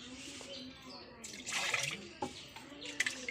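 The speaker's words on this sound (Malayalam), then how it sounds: "അപ്പോൾ അതിലേക്ക് അരച്ചത് ഒഴിക്കണം." Ground spice paste of chilli, green chilli, curry leaves and kudampuli pours into a curry pot for a prawn fish curry, giving soft wet splashes and slops that swell mid-clip, with brief clatters at the end.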